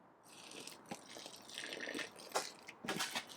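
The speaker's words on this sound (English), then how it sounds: "The next step is to pour over the boiling water into this" Boiling water poured over a medieval ale mash, a faint trickling, splashing pour with a few rattling knocks and gurgles, close by and without speech.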